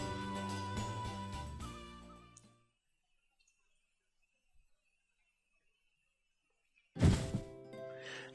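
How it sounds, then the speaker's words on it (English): A single heavy thud of someone plunking down onto a bed in a visual novel video game. It lands loud and close after a stretch of music fades into near silence, and a few soft tones follow. "with a thud, I plunked down on my bed"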